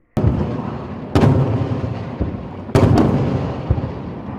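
Several loud explosions boom one after another as a ship-launched rocket intercepts a drone bomb in the sky, three heavy blasts with echoing rumbles trailing off between them and smaller thuds in the gaps.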